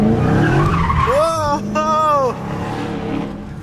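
A Dodge Hellcat skids, with a sharp rising tire squeal in two close bursts over engine rumble and cabin noise, voices heard around it.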